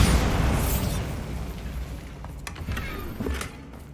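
A Bombarda spell explodes in Hogwarts Legacy: one loud, booming blast at the start that rumbles and fades away over a few seconds, with faint crackles after it.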